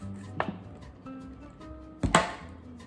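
A knife chops through ripe fruit on a board while breakfast is prepared, two sharp cutting strokes standing out close and clear over a quiet, faint room background.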